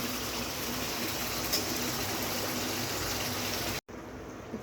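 Water is poured into a pan of fish curry, a steady close gushing hiss that runs unbroken before cutting off abruptly near the end, with no talk.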